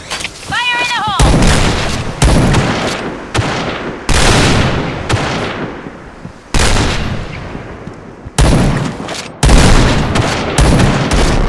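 Gunfire and explosions in a multiplayer shooter game: a series of loud, sharp blasts with long decaying tails, about eight heavy bursts spread over several seconds, opening with a brief electronic chirping tone.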